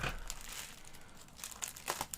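Crinkling and rustling of packing material as a mail-order parcel is unwrapped, with sharp crackles and crunches in irregular bursts, close and fairly quiet.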